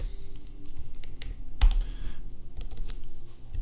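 Fingers type code on a computer keyboard while building a React login form, producing a steady, close patter of quick key clicks with one sharper clack partway through.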